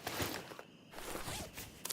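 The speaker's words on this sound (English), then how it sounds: "I believe I hear footsteps of the patrol to the left of us." Footsteps of an enemy patrol in a hardcore, extreme-AI video game crunch along at a distance, quiet and irregular against a soft background hiss.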